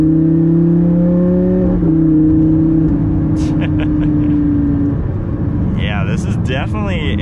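Lamborghini Gallardo engine droning with shifting tonal pitch while driving, steady and loud inside the cabin, a voice speaking over it toward the end.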